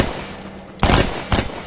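Gunfire in the VR shooter Tactical Assault VR: two sharp, loud bursts of shots about half a second apart, close by, against a quiet background.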